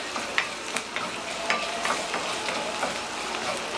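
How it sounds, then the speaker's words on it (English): A large amount of garlic frying in a pan for Korean-style BBQ sauce, a soft continuous sizzle broken by scattered clicks and scrapes as a utensil stirs it, close and fairly quiet with no talking. "So let that garlic cook up."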